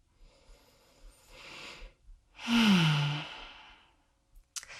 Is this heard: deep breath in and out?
yes